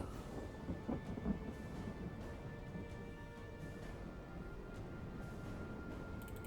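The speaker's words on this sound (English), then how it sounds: "It's raining, it's foggy, but we should manage." Steady rain with low rumbling thunder in the medieval strategy game Medieval 2 Total War, a continuous wash of rainfall and rolling distant thunder throughout, no voices.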